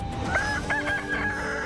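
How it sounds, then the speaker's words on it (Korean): A rooster crows loudly and close by in a single drawn-out call with a rising then sustained tone, outdoors in Wando, South Korea. "멀지 않은 곳에서 힘차게 회치는 닭 울음소리가 들려왔는데요."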